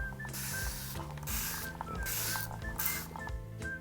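A handheld spray bottle mists water onto a face during a skincare routine, giving four short hissing bursts at a steady pace over soft background music.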